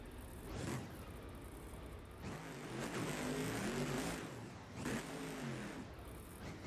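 The monster truck Toxic, driven at a monster truck show in Gilbert, Pennsylvania, roars with a loud distant engine that rises and falls in repeated revving swells over crowd ambience.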